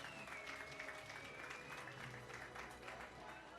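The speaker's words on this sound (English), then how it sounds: "Another round of applause, ladies and gentlemen." Applause from the audience at a university innovation competition awards ceremony, a steady wash of clapping under a faint voice, with a thin tone running through it.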